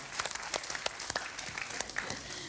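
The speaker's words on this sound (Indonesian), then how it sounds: "Kita beri tepuk tangan untuk Bank Jatim" Studio audience applauding for Bank Jatim on a televised Indonesian talk show, a steady wash of many hands clapping at moderate volume, no voices over it.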